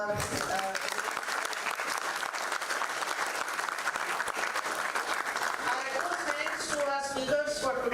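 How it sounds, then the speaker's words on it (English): A conference plenary audience claps steadily for several seconds, a full even wash of applause that continues as a voice begins speaking near the end. "A round of applause for"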